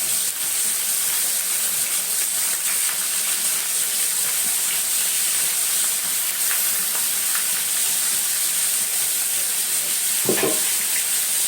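Onions sizzle and fry steadily in a pan with potatoes and chicken, a loud continuous crackling hiss with occasional stirring scrapes and a brief clatter near the end, no talking.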